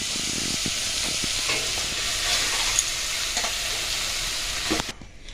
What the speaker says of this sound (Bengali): এটা ঘি দিয়ে ভেজে নিতে হবে গাজরটা